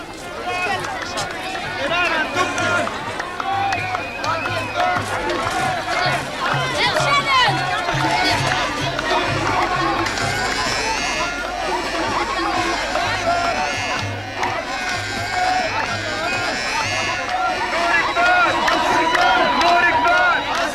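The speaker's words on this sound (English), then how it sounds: "pilgrims flock in by the thousands to celebrate the feast of Mary" Thousands of pilgrims crowd the Deir Dronka Monastery in Middle Egypt for the feast of Mary, a dense, loud and unbroken roar of voices and babble that fills the space.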